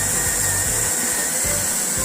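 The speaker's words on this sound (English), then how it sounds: "It doesn't drill right through, just drills through your first layer." Power drill boring through a first layer of material, a loud continuous whirring buzz with rhythmic dips and surges as the bit bites, no voices.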